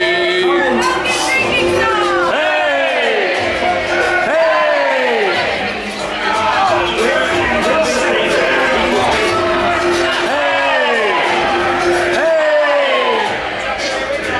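Crowd of patrons inside Oga's Cantina on Batuu, a steady loud indoor hubbub of overlapping voices with music running through it for the whole stretch.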